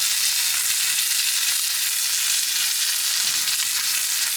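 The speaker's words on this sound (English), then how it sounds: "Lots of sizzle." Steak sears in a very hot cast iron skillet with beef tallow on a gas grill, giving a loud, constant hissing sizzle with no voices.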